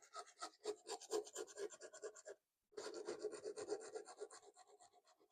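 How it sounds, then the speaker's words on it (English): Sandpaper lightly sands an old box in a run of quick, soft, rhythmic scratching strokes, close and quiet, broken by one short silent gap. "So I'm just going to go in with my sandpaper, just a light sand to start with."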